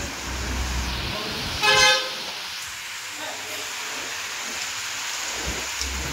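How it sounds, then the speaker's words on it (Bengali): Heavy rain from Cyclone Remal pours in a dense, steady roar at a market in Benapole, Bangladesh, wind adding to the wash, with a brief horn blast near the start and no talk. "এখন হচ্ছে হাওয়ার সাথে বৃষ্টি।"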